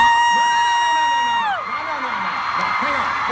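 A live convention audience at VidCon 2017 cheers and whoops loudly, a dense crowd roar with rising yells carrying on throughout without a break.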